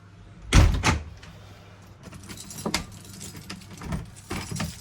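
A door shuts with a solid thud near the start, followed by a second knock and some rattling of a latch or keys, then quieter shuffling and rustling movements nearby after trash is taken out.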